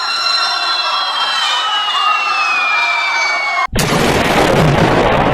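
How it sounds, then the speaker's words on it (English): A falling bomb whistles in a long descending tone over a steady roar, then a sudden cut gives way to a loud, dense, sustained explosion blast filling the remaining seconds. "it's time to drop this hellish bomb"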